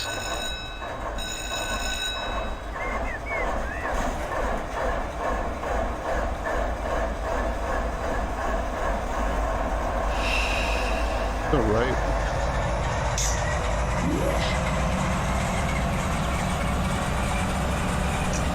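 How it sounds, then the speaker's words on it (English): Santa Fe / Southern Pacific Dash 9 diesel locomotive engines in a train simulator game start, rumbling and revving up, a steady low drone with rising mechanical tones, as a voice speaks briefly near the start. "So we'll start the engines up and go through all that."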